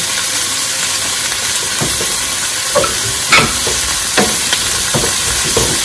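Softened onions sizzle and hiss steadily in a pan for an adobong chicken feet dish, with a few sharp clinks and stirring knocks as bay leaves go in; no talking.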